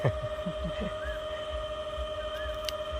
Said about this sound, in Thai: เสียงปั๊มน้ำส่วนทั้งขางมันดังแห้ง สงสัยลูกปืนมีปัญหาแล้ว